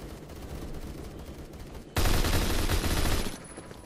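Gunfire in a shooter video game from an HK21 machine gun, a dense burst of rapid shots starting midway, loud and sustained for about a second and a half over steady background game noise.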